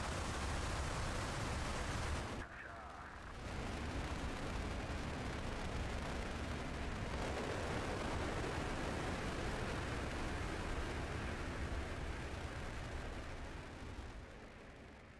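Rocket launch in the Mars Horizon space-agency game, a steady loud roaring rush that holds for over ten seconds with a brief drop near the start and a gradual fade at the close.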